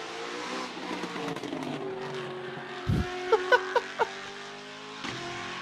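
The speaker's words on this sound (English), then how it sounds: "Yeah, folks, that's a Ford engine." A modified 5.4-liter Ford V8 car engine idles with a rough, throbby growl, then fires off a quick series of four sharp, loud revs close by.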